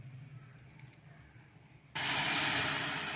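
After a quiet start, a sudden loud hiss of boiling water poured over sago pearls for puttu begins and continues steadily, close by, with no talking.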